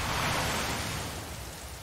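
Steady rain falling in a dark crime thriller movie scene, a dense, even hiss that fades slightly toward the end, with no voices.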